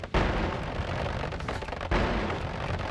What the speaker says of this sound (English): Have the explosions all happening like...